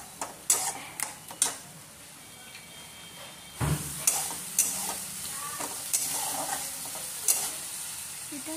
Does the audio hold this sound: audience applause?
no